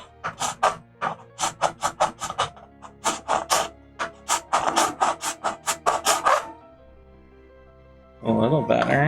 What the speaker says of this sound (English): Let's see what a metal file does.